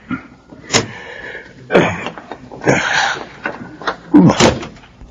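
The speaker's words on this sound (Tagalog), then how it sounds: "Buksan mo na itong pinto nitong kotse." Several clunks and latch sounds of a car door being handled and opened, one after another, fairly close.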